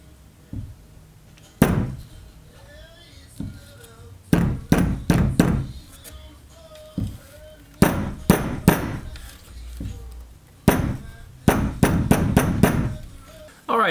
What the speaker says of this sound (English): I'm just going to use this brass hammer that I have to tap it into place